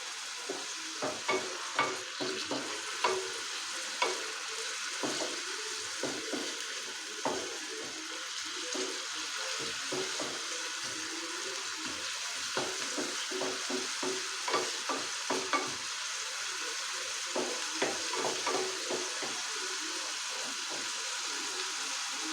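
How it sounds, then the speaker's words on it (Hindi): Chopped onions and garlic fry in a pan with a continuous soft sizzle, punctuated by repeated scraping stir strokes at an irregular rhythm, close and moderately loud with no talking. "इन्हें हम डालेंगे इसमें, और इसे हम थोड़ा सा फ्राई कर लेंगे।"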